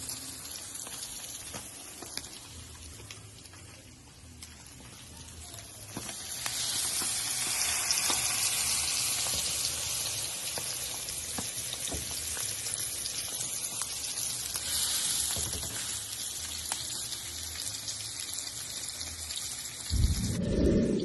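Salmon fillet searing in a hot pan, a broad hissing sizzle that swells louder after a quieter start and stays steady, with occasional small pops and a thump near the end.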